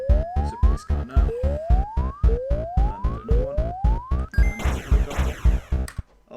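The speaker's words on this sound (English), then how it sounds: "There's a police car now." Police car siren in an endless-runner video game, rising in repeated sweeps about once a second over a pounding music beat, then breaking into a noisy crash near the end.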